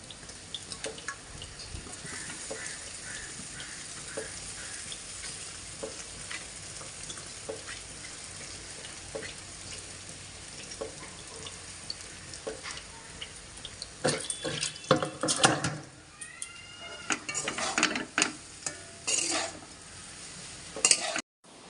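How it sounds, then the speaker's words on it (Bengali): Chowmein noodles frying and being stirred in a pan with egg and potatoes: a constant hiss of sizzling, then louder, busier scraping and clattering strokes near the end. "ডিমটা ভাজা হয়ে গেছে, এবার এর মধ্যে চাউমিনটা আমি ঢেলে দেবো।"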